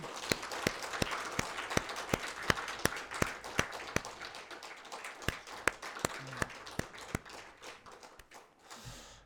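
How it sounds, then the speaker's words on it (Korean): Congregation in a church worship service claps in a slow, regular beat, sharp evenly spaced claps over a soft wash of scattered clapping that thins out and fades near the end. "격려의 박수 하겠습니다."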